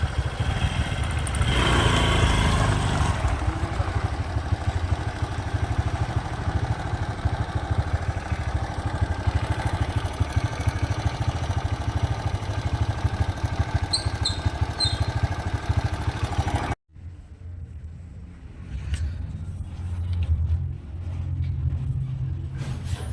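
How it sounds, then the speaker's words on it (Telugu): Motorcycle engine running in a steady low idle rumble, loud and close throughout, briefly cutting out near the end before resuming at a lower level. "అయితే బండి స్టార్ట్ చేసుకుంటావు మీరే?"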